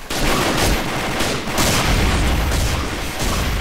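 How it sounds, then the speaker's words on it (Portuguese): Loud, dense gunfire from a shooter video game at the start of a round, including sniper fire, with rapid shots and booms running continuously and close throughout. "Da onde veio esse tiro, Lucas?"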